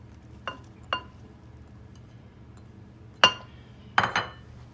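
Diced cucumber being mixed into a bowl, with a few separate clinks and taps of a utensil against the dish, the last ones clustered close together, over a faint background hum.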